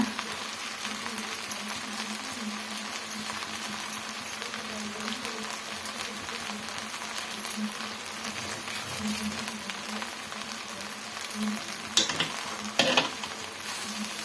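Avalakki bath with plenty of coconut and fresh coriander being stirred in a pan, a steady scraping and soft sizzle that carries on evenly throughout with a few louder clatters near the end, no talking.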